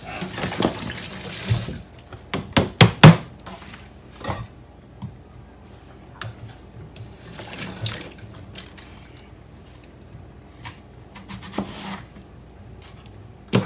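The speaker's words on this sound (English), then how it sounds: "Get this one more quick little rinse." Water runs from a kitchen tap as something is rinsed under it, a steady splashing stream with a few sharper knocks and clatters early on, close and alone with no talking.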